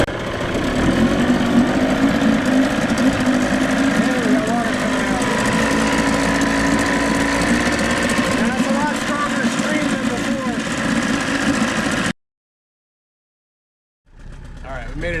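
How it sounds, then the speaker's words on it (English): A pontoon boat's outboard engine, freshly fitted with a new impeller, runs at a steady idle on a lake for about twelve seconds, then cuts to silence before the engine sound returns. "All right, go ahead and crank it. Give it a little bit of throttle."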